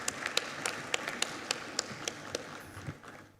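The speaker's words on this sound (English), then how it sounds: "Let us once again give him another hand clap" Audience at Uganda's National Performance Review Conference gives a short round of hand claps, sparse and distinct at first, then fading as the applause tapers off.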